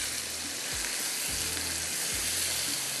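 Chicken liver frying uncovered over a high flame, a loud, dense, continuous sizzle with a few low knocks of the pan or spoon.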